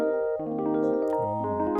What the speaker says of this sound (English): Harpeggiator sounds like this.